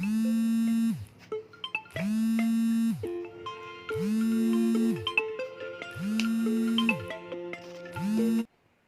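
A melodic electronic phone ringtone from an incoming call, playing alone in a loud repeating pattern of about five roughly one-second phrases with brief gaps, then cutting off abruptly.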